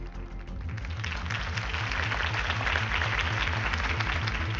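Steady, dense crowd applause with clapping fills the room after a campaign speech in the Batman Telltale game, continuous and loud throughout with no break.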